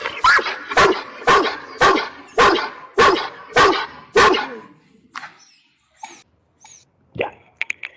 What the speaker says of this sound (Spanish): perro Doberman que se llama Thor